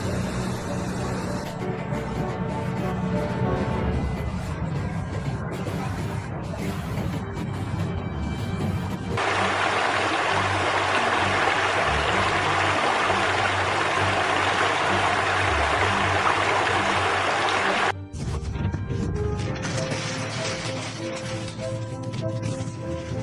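Floodwater surges after a dam break, sweeping away houses and cars: a loud, continuous broadband roar of rushing water that stays steady throughout, with a brief dip near the end before the torrent resumes.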